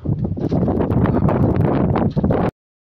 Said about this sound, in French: J'ai coupé un peu parce qu'il y avait du vent